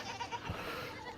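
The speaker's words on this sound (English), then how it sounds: "We'll pin the goats up here and let them eat for about an hour or so" Goats penned on a farm give a faint, brief bleat amid soft outdoor background noise, heard at a distance rather than close up.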